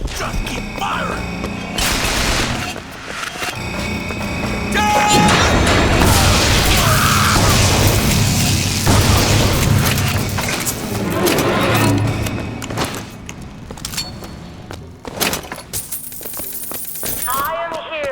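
Gunfire in the video game Bioshock Infinite, with rapid bursts, booms and crashing impacts packed through a chaotic firefight, with voices shouting over the shots.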